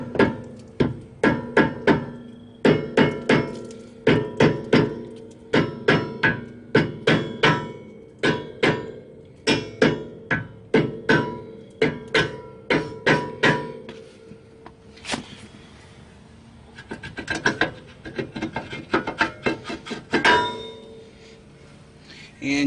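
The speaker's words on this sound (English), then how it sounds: "I'm going to go ahead and get a rubber mallet, see if I can hit it to loosen it up a bit" Rubber mallet striking a stuck brake rotor on a Nissan 350Z, a series of sharp dull thuds with slight metallic ring, repeated at an irregular steady pace, close and loud, with quieter clattering near the end.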